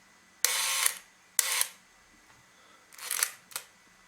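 A Leica MOOLY motor drive fitted to a Leica IIIa or IIIb camera, with a broken spring, whirs through four short mechanical winding bursts with brief pauses between them, close and clear against a quiet room.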